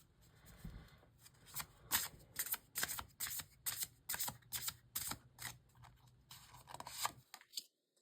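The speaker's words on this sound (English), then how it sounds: "So I'm going to get some oracle cards for you guys." Oracle cards being shuffled up close, a quick irregular run of crisp riffling flutters and snaps lasting several seconds, quiet and alone with no talking, ending in a brief pause.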